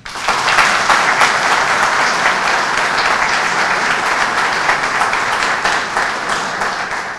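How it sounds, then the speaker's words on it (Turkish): A hall full of people at a sports club general assembly breaks into loud, sustained applause, dense clapping that holds steady for several seconds. "Hani alkış falan yok mu?"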